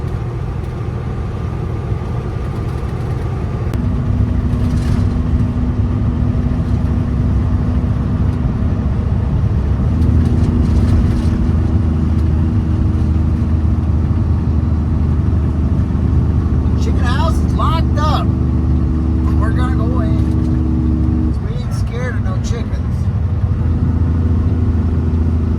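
A truck engine climbs a hill with its cooling fan running, making a loud, constant close drone with slight pitch shifts, while a person talks over it.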